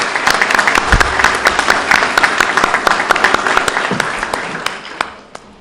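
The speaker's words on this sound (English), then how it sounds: "If you can have a round of applause for them." A crowd applauds at a governor's flood recovery announcement in the Mohawk Valley: steady, dense clapping with sharp individual claps, loud and close, tapering off at the end.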